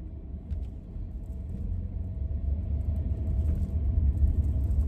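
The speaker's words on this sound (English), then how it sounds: "Where the hell is this damn truck going?" A truck rolls past on the road, a deep, steady engine rumble that swells gradually louder over a few seconds, heard close by.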